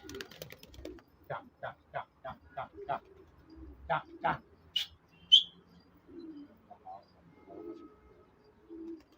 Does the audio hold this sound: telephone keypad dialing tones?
no